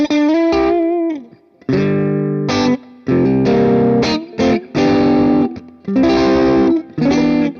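Distorted electric guitar through an AmpliTube 5 amp simulator plays sustained chords and a bending note, with heavy reverb tails ringing between strums; loud and close.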